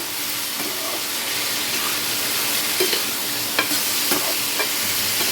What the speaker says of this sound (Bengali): এখন ডালটাকে আমি একটু ভালো করে কষিয়ে নেব